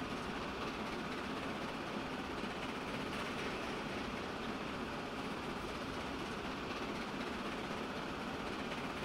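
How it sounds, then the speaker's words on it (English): A train rolls along a layout in the video game Transport Fever 2, giving a steady, unbroken rumble with faint rhythmic rail clatter that keeps an even level throughout, with no voices. "if riding a train on the layout isn't your thing, you can cut away now"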